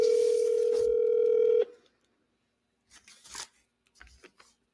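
A telephone dial tone hums steadily for about a second and a half, then cuts off, followed by a few short, quieter dialing sounds in an otherwise silent line.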